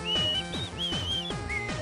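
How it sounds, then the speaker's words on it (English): Shrill whistles ring out in short rising and falling sweeps, several in a row over a dense, noisy background of a podcast setting, fairly loud throughout with no clear talk. "I don't want to talk over the whistles"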